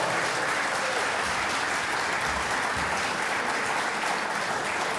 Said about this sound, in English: So can we give the cooks and the staff a round of applause?